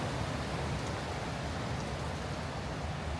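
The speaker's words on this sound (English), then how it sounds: "The wind just started blowing like crazy." Strong wind blows through the woods as a loud, steady, broadband rushing roar, with no breaks or voices.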